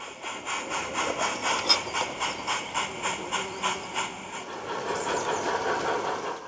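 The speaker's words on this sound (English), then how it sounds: "the wagons are propelled by Loco No. 4 into the goods siding" A model railway locomotive slowly propels goods wagons into a siding, producing a regular rhythmic clicking of wheels over rail joints with a faint mechanical whir, close and fairly quiet, ending in a softer rumble.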